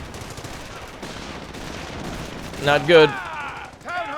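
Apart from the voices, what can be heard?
artillery fire in Company of Heroes video game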